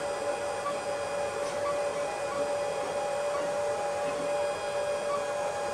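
Alfawise U10 3D printer on its first print run, with a steady whirring motor hum and faint stepper whine that holds evenly throughout, close and continuous with no talking.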